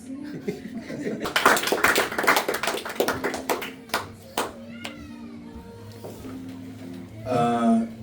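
Clapping breaks out among the crowd at an awards night, a short loud burst of many hands that fades into chatter, light laughter and talking voices, with a brief swell of noise near the end.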